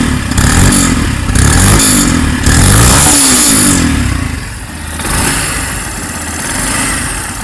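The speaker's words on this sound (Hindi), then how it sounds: "आपको इसका इंजन साउंड सुनवाता हूँ।" A nearby 2025 Yamaha FZS motorcycle engine revs hard in several bursts, rising and falling, then settles into rougher, slower swells.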